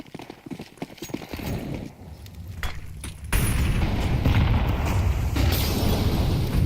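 Incendiary grenades in a Counter-Strike 2 match burst with a sharp pop, after which a dense, steady crackling roar of fire fills the scene and holds loud, with scattered footsteps and clicks beforehand.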